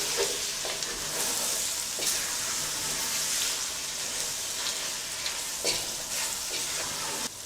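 Pork rind and pancetta frying in a pot for Uruguayan buseca: a steady, dense sizzle and crackle with stirring scrapes, close and continuous.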